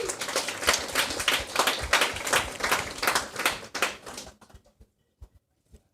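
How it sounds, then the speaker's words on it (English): Audience applause for partners and sponsors at a hackathon award ceremony: a burst of dense clapping from a mid-sized crowd that runs steadily for about four seconds, then thins to a few last scattered claps and silence. "So give them a round of applause also."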